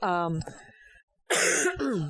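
A single cough with a throaty rasp from a comedian during a stand-up Q&A, close and sharp, coming after a stretch of speech and followed by more talk.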